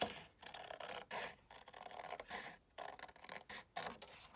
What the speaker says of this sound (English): we'll cut that 1/2 inch tab off the top across the whole side